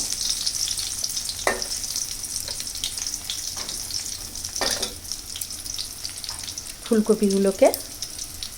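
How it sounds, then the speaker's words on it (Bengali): Cauliflower pakoras, coated in ground cumin, ginger paste and green chilli paste, fry in hot oil with a steady close sizzle, broken by a few sharp bursts and stirring clatters near the end. "এবার আমি লাল লাল করে তেলের মধ্যে ভেজে নেব।"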